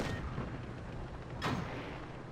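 A tank shell ricochets off armor in World of Tanks Blitz, heard as a sharp metallic crack partway through a heavy, continuous low rumble of engines and battle, with no talking.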